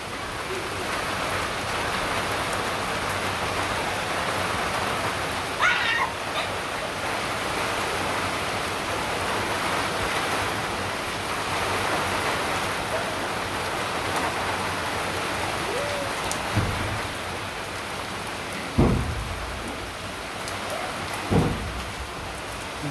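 Heavy rain falls steadily outdoors, a dense continuous hiss with a few brief thumps and drip knocks near the end, no one speaking.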